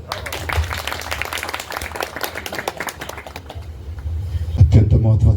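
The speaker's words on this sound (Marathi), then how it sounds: "संचासाठी टाळ्या वाजवा." Audience clapping along at a Marathi kirtan, a dense patter of hands under music and a voice, growing louder and fuller toward the end.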